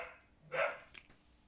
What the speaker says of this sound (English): there's a dog next door or over the road that's barking, and he's just barking at it